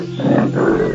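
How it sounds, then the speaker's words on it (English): A jaguar in the rainforest gives a single short, loud roar that swells and fades within a second, heard alone and close. "Jaguar roared with fury"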